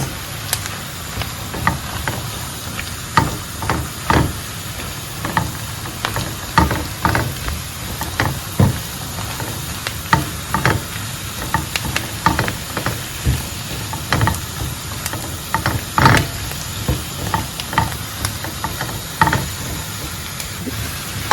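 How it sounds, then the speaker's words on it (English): Mushrooms frying in a pan for a creamy spaghetti carbonara, giving a steady sizzle with repeated clicks and scrapes of stirring throughout, close and fairly loud with no talking. "I'll go ahead and add my mushrooms."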